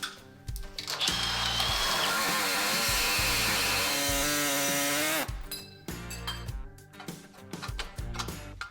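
Power tool cutting through a welded-in steel part on a car's hood-clearance modification, a loud steady whine for about five seconds, then rapid stuttering bursts of cutting and grinding.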